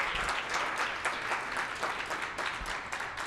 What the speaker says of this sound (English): Round of applause for all of our wonderful presenters.